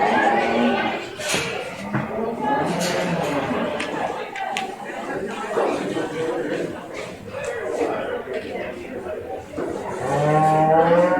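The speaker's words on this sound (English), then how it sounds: "Now entering the ring is going to be our Black Angus cow-calf pair, Katie Schreibeis." Black Angus cattle moo at a 4-H beef show as a cow-calf pair enters the ring, several loud calls rising over a noisy arena crowd with chatter throughout.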